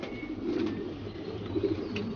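Compact, sturdy middle- and long-distance racing pigeons cooing in their loft, with low soft coos swelling twice against a quiet background.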